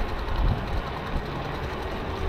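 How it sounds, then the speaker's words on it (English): Lectric XP 3.0 electric bike motor making a steady, rough droning hum while riding, continuous and fairly loud with no gaps. "So I'm pretty sure that loud noise is my motor"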